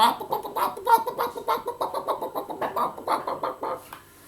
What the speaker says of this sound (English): And there's the chickens clucking.